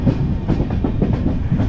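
The Satavahana Superfast Intercity Express with LHB coaches rumbles along near the Kazipet diesel loco shed, its wheels beating a loud, rhythmic clickety-clack over the rail joints, close and unbroken.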